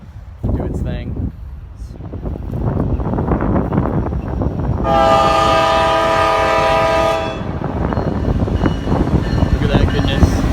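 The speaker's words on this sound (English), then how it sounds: "I hear a second train too." A slow Norfolk Southern freight train rumbles past close by, its horn blaring loud and steady for a few seconds mid-way, with wheel and wind noise continuing throughout; no one speaks.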